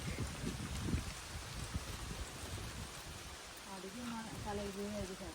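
Steady rain patters and hisses continuously, fairly quiet and close, with a few muffled knocks and a faint tonal sound joining near the end.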